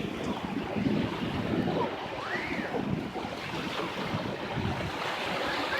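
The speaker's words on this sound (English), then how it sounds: "It's a nice breeze blowing." Wind gusts at a beach push loud, broadband rushing noise across the microphone, with surf churning underneath, continuous and close throughout.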